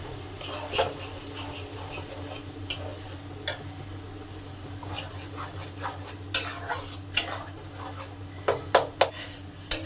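Onion paste frying in a pan with repeated scraping and clinking of a metal spoon stirring, the clanks growing more frequent toward the end. No talking.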